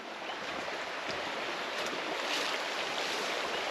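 A small waterfall spills through a crystal-clear rocky-bottomed creek in remote country, giving a constant close splashing rush of water without a break.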